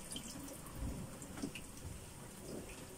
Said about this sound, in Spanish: Las lentejas las drenamos, le quitamos el agua.